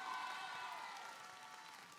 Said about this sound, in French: On peut les applaudir et faire un maximum de bruit pour notre jury.